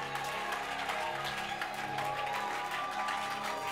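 A church congregation applauds and cheers in acclaim, a dense continuous wash of clapping and voices throughout, with music in the background.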